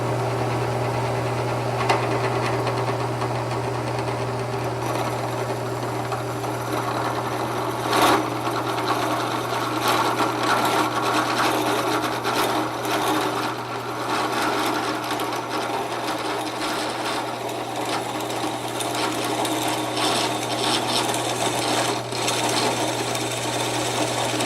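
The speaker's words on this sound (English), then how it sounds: "It'll sound like drilling through sugar, like a sugar cube or ice or something." A drill boring through a treated pen blank for a pen, a steady close mechanical whir with a constant low hum, holding nearly level throughout with small scraping bursts and no talking.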